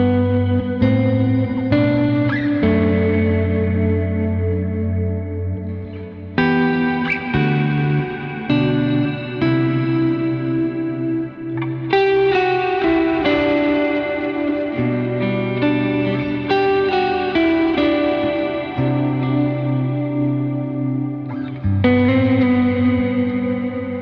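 An electric guitar through a Line 6 dynamic hall reverb plays chords and melodic lines drenched in spacious reverb, the notes ringing out and blending into a lush, sustained wash.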